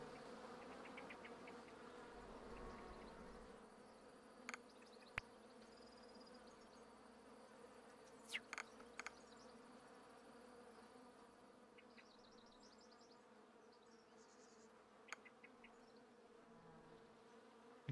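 Bees from the hive-building game Hive Time buzz in a steady, soft drone that runs the whole time, with a few brief clicks and chirps from the game scattered over it.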